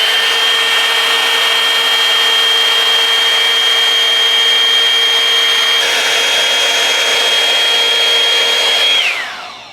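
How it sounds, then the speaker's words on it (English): Revlon One-Step hair dryer brush drying curly hair, giving a loud, steady, high-pitched motor whine with rushing air that holds for about nine seconds, then winds down at the end. "we're gonna do another pass"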